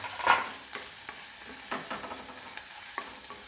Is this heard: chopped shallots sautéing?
yes